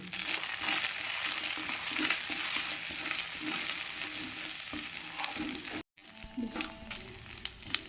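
Ginger frying in a pan with Kashmiri chili powder and turmeric powder added, a steady close sizzle with rhythmic stirring scrapes throughout, briefly cut off near the end before resuming.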